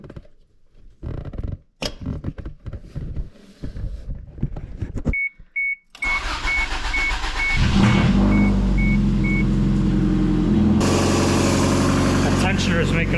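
Toyota Celica engine with its oxygen sensor unplugged starts after some handling noises and a short beep, then idles low and rough with an uneven stumbling rumble close by.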